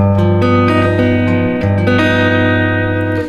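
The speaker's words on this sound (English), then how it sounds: "It's the 7 sharp 5," A tense 7 sharp 5 chord on guitar is strummed and left to ring, struck again a few times with sustained, shimmering notes and no talking.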